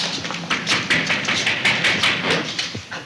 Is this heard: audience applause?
no